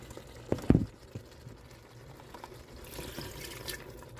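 Cornstarch slurry poured into an Instant Pot of dairy-free cheesy noodles, a short wet splash and glug near the start, then a low simmering bubble and faint sizzle that carries on alone.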